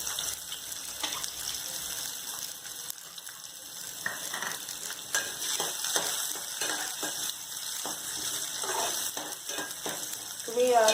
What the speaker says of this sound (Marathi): ही आता आपण ह्याच्यात लसूण टाकूया.